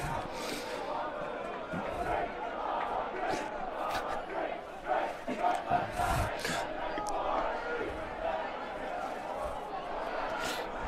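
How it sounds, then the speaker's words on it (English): Stadium crowd at Memorial Stadium singing the Cal drinking song during the fourth quarter of a Cal Bears vs Chapman lacrosse game. The broad, sustained mass of voices fills the clip, rising and falling slightly, with some nearer voices over it. "the crowd is now singing the Cal drinking song to bring us through the 4th quarter here"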